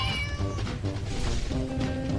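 A cat meows inside the video game Flame Over, with several clear, tonal meows that rise and fall in quick succession over steady game sound.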